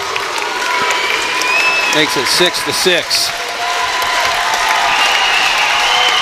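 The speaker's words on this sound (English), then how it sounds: "He gets a standing ovation here from the Winterset crowd" Standing ovation from a crowd at a high school varsity wrestling match in a gym, a steady roar of applause and cheering throughout while a commentator talks over it.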